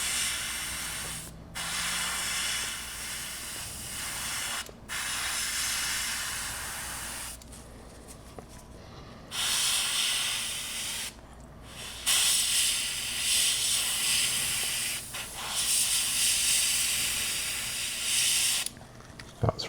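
An Aventus airbrush sprays gray paint in repeated bursts of sharp, airy hiss, broken by short silent gaps as the trigger is released and pressed again.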